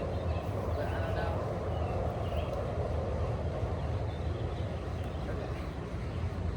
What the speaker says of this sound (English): that loud, like, kind of roaring noise in the background keeps coming on. I think it might be a plane,